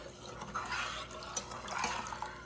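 Water poured into a lemon pie filling in a home kitchen, a soft steady trickle and splash with faint dripping and a spoon stirring, quiet and close, no talk over it.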